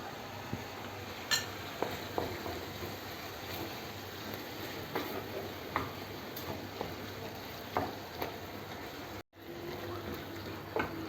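Tomato paste frying in a pan for eggplant moussaka sauce, a steady low sizzle with scattered clinks of a utensil against the pan, fairly close, with no voices.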